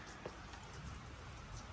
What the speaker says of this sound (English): But this is like a beautiful summer rain, man.